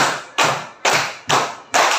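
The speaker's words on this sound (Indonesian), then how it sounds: "Tepuk 1, tepuk 2, tepuk 3, tepuk 4, tepuk 5." Four sharp, evenly spaced claps ring out one after another in a steady rhythm, each fading quickly before the next.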